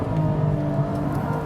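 Porsche 718 GTS 4.0 flat-six held in second gear against the rev limiter on a racetrack, a loud sustained engine drone with a faint pulsing flutter at the cut, alone without talk.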